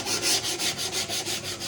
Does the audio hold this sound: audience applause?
no